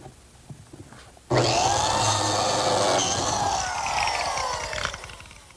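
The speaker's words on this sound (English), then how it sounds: "I'm going to use my biscuit cutter to make a slot at each opening" Biscuit joiner cutting a slot into a wooden piece on a workbench: a sudden loud motor whine and blade cut lasting a few seconds, close, then spinning down.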